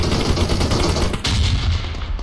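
A grenade blast from the game PUBG Mobile rips through as a loud, dense burst of explosive noise with a sharp crack partway through, continuing as rough rumbling without any speech.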